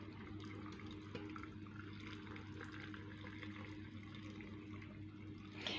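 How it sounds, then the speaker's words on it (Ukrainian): Liquid poured from a saucepan into jars packed with tomatoes for winter preserving: a faint, continuous trickling and filling sound under a steady low hum, with no one talking. "Заливати я буду просто з кастрюльки."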